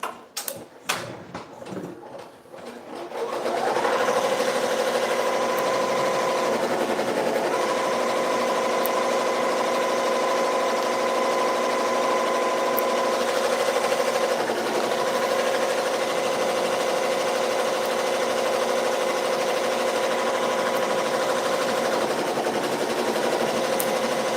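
Sewing or embroidery machine stitching a shirt: after a few seconds of clatter, a loud, steady whirring drone with a constant mechanical pitch runs continuously, close up and alone.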